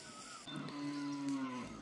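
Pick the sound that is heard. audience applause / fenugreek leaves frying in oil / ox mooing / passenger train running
ox mooing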